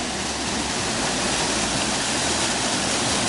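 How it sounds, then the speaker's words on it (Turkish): Gürleyik Waterfall in Kastamonu roars steadily at a campsite, a loud, dense, unbroken rush of falling water that fills the whole moment with no voices. "Şelalemiz de orada."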